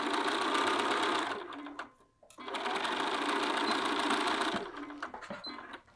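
A domestic sewing machine runs at close range as it stitches a sleeve's underarm seam, with a loud steady mechanical whir that pauses briefly midway, then resumes and stops near the end.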